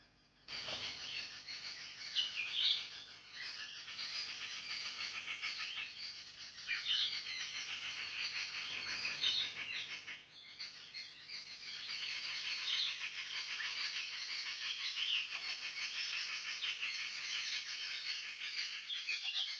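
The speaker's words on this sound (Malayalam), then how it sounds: "പക്ഷികളുടെയും പ്രകൃതിയുടെയും ശബ്ദമല്ലാതെ തികച്ചും ശാന്തമായ ഒരിടം" Steady, faint chorus of high bird calls filling a quiet forest around a Kerala temple, continuous without pause.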